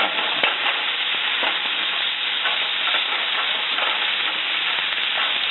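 Beef frying in oil in a pan over medium heat, a continuous loud close sizzle with faint stirring scrapes.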